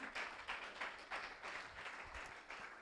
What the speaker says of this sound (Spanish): ¿Por qué no das un aplauso en esta mañana?